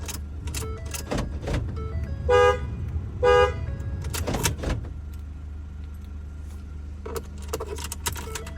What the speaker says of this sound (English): the Ford Escape beside us started